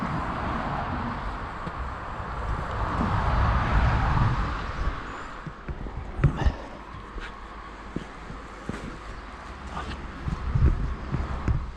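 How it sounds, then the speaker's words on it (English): Steady low rumble of passing traffic from a road close by on an upland walk in the Peak District, with wind noise on the microphone and a few sharp knocks and footstep-like thuds. "Close to the road, you can certainly hear it."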